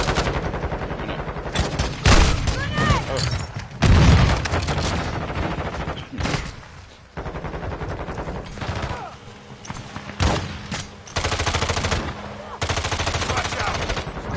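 Rapid automatic gunfire in the Modern Warfare 2 video game comes as loud, sustained bursts separated by brief gaps, with a heavy thud or two among them.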